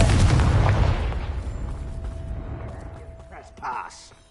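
A Confringo blasting spell explodes in the Hogwarts Legacy game: a loud, deep boom that rumbles and slowly fades over several seconds, followed by a fainter burst near the end.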